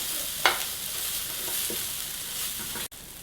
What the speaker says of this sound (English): Next we're going to add the onions. And we're going to cook them off for a few minutes.